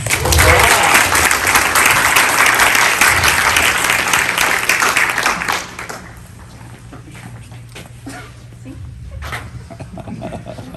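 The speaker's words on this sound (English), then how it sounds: "Please give these soldiers a round of applause." Crowd applause for soldiers at a Guam Army National Guard battle handoff ceremony, loud and dense for about five seconds, then dropping off abruptly to scattered faint claps and low murmuring.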